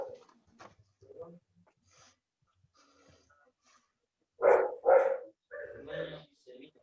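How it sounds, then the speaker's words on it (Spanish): A dog in a home barks twice in quick succession, close and sharp, followed by softer yips and breathing noises during a quiet online architecture lesson. "¿Ese es el perro de Nicole? ¿Que anda por ahí?"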